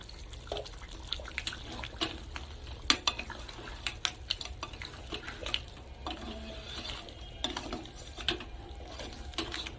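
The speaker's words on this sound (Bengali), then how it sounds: "এখন আমি ঢাকা খুলে দিয়ে একবার নেড়ে নেব।" Raw crab masala being stirred in a pan after the lid comes off: scraping, clinking spoon-on-metal taps and soft wet sizzling, moderately quiet and close, with no talking.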